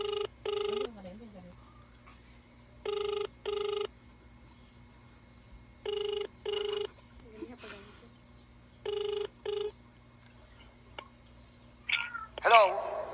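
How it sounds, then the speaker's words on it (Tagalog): A telephone rings out in repeated double bursts during a prank phone call, with a few faint voices murmuring between the rings and a brief louder noise near the end. "So, tatawag na po tayo ng next caller."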